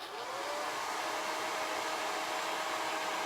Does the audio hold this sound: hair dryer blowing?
yes